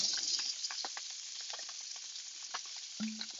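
Capers and white wine hit a hot frying pan for a pan sauce, giving a close crackling sizzle with scattered pops that ends in a brief scraping stir, no voices.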